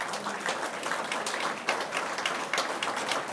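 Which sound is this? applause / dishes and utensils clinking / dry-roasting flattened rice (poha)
applause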